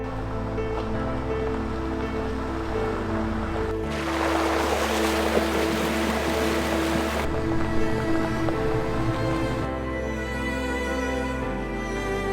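Cold Pacific surf rolls onto an Oregon coast beach, a continuous wash of breaking waves with wind, swelling louder through the middle and settling back, no voices.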